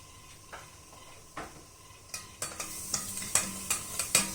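Crushed dried chilli sizzling in oil with well-browned onions in a pan, with faint frying crackle under a series of sharp stirring clicks and scrapes that grow louder and more frequent toward the end.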